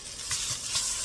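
Fish for tacos hitting hot oil, a brief steady hiss and sizzle up close, fairly soft.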